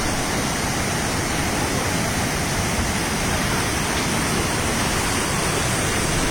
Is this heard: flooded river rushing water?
yes